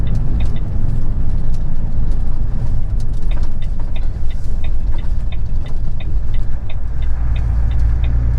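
A Class 1 HGV pulling a low loader rumbles along a road with a loud, steady low engine drone, faint ticking clicks repeating through it, and no voices.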